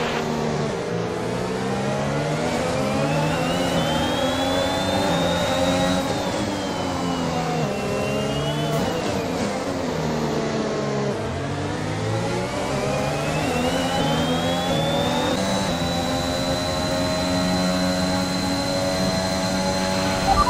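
A Formula 1 car in the racing game F1 2021 accelerates with a sustained, high-pitched engine whine that climbs and dips through gear changes, running steadily and loudly for about twenty seconds with no talk.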